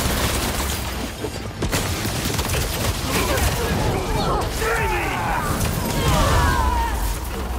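Gunfire in the video game Marvel's Spider-Man 2, loud sustained shooting and crashing impacts mixed with game effects while a voice talks over parts of it.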